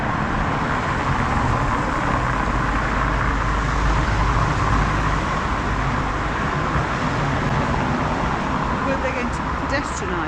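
A car rolls over loose, rattling paving stones on a semi-pedestrianised one-way street in Paguera, making a steady, loud broadband roar of tyres and clatter throughout with no break.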